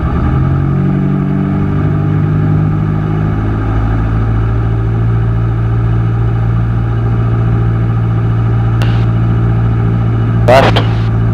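A Cessna 162 SkyCatcher light aircraft engine on run-up at 1700 RPM, a loud, steady droning hum that holds even throughout, with voices speaking over it and a brief squeal near the end.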